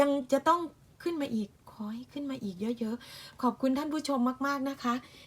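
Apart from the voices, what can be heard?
No everyday noises stand out.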